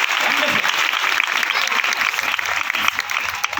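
A church congregation claps together during an Odia-language sermon, a dense, continuous wash of hands at steady volume with faint voices underneath.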